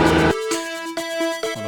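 An elevator activates in System Shock Enhanced Edition, giving a short burst of harsh, dense noise followed by a few resonant metallic tonal clanks.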